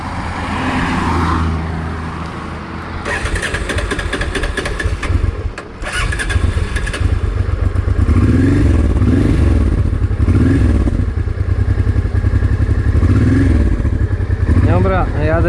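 A Honda motorcycle with a carburetor fault starts up, then revs loudly and rides off. The engine runs a steady, rough roar close by, with rising and falling revs and a clattering mechanical undertone, and a voice is heard faintly beneath it.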